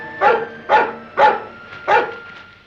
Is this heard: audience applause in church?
no